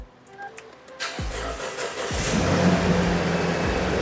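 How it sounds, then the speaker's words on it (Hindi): A Toyota Land Cruiser Prado TX.L from the 2013–2021 line cranks over with a brief starter whir, then catches and fires into a steady, fairly loud idle that builds slightly and holds with no talk over it. "ये इस गाड़ी का स्टार्टअप"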